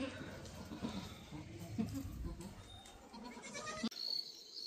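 Goats that have just given birth to kids bleat on a farm, with several wavering calls of moderate loudness over steady outdoor background noise.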